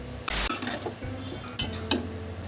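Kohlrabi stir-fried with potato and spices in a pan: a spatula scrapes and clacks against the metal, and a few sharp sizzling bursts rise over a low steady crackle, close up with no talking.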